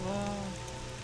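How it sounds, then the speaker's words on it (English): Steady rain falling in the video game Morrowind, a soft continuous patter heard alone beside a faint low tonal hum. "So when it's raining, I want to hear the rain."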